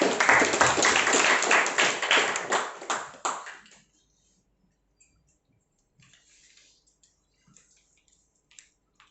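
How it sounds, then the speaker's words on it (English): An audience at a student speakers forum claps for the next speaker: a loud burst of dense applause that thins into scattered claps and stops after a few seconds, leaving near silence with faint stray sounds. "A round of applause."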